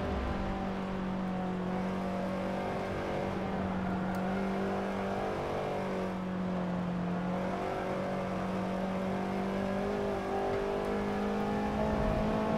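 Race car engines in Forza 7 drone and whine steadily for a long stretch, pitch rising and falling through gear changes as cars are lapped, loud and continuous with no talk.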